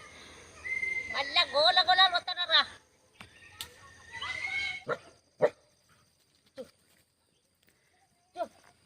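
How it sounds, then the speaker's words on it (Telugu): Dogs bark and whine near a hut at the edge of Maredumilli forest, with a burst of yelping cries, then single sharp barks spaced apart as the animals run off, alongside people talking. "కుక్కలు చూడండి ఎలా పరిగెట్టేస్తున్నాయో."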